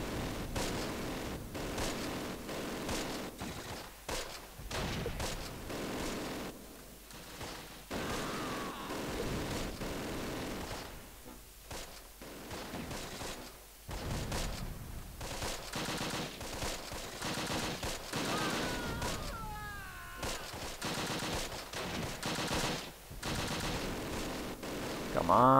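Gunfire in the WWII tactical game Close Combat: The Longest Day, with irregular bursts of rifle and machine-gun fire that keep crackling over a steady battlefield din, some shots sharp and close and others more distant.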